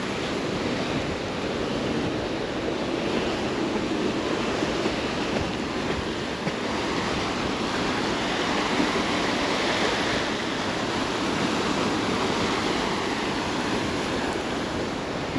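Rough sea surf breaking on rocks and a beach at Palmanova, Mallorca, a steady broadband roar of waves with wind buffeting the microphone throughout, no voices.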